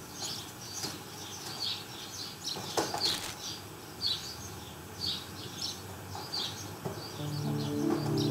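Birds in the video game Grandia III, repeated bright chirps and tweets in a steady rhythm over a soft ambient background, with a faint low tone rising near the end.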